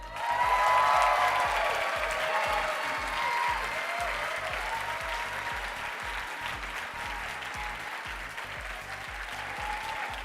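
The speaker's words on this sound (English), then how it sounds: "A massive round of applause for" Audience applause at the North America's 50 Best Restaurants 2026 awards ceremony in New Orleans, greeting Somni of LA at number 46: a sustained, dense wash of clapping from a large crowd, loudest at first and holding steady throughout.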